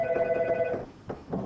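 An incoming call rings on a telephone in a sharp electronic burst, followed by a brief pause and then shorter fragments of the ring, loud and close with no talk over it.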